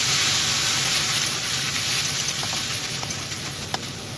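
Eggs frying in a pan with red chili sauce and soy sauce being stirred in, giving a steady close sizzle and hiss with a few faint spoon clicks near the end.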